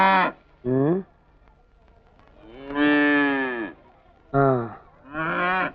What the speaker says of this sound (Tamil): மாடு வேணா நல்லா தான் இருக்குது